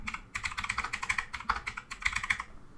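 Rapid typing on a computer keyboard, a steady run of close, crisp key clicks lasting a few seconds with a brief pause near the start.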